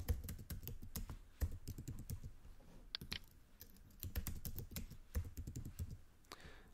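A password is typed on a computer keyboard, with quiet, close, irregular key clicks tapping continuously in short bursts and no talking.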